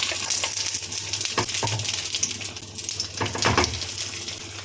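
Katla fish pieces sizzle as they are laid one by one into well-heated oil in a wok, producing a close, crackling fry with a few sharper spits and clinks of a utensil.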